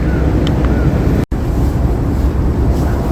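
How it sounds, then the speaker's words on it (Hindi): Cold wind blowing steadily in the open air in Yokohama, Japan, a broad continuous rush with a brief dropout partway through. "इतनी ठंडी हवा चल रही है"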